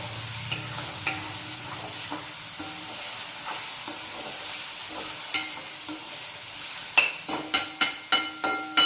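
Tomatoes fry in a pan until soft, a steady close sizzle with soft stirring at first, then a quick run of sharp repeated spatula scrapes and knocks toward the end, no speech.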